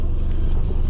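A Toyota KZJ90 pulls away in first gear, its engine a steady, loud low rumble heard close up from inside for about a second.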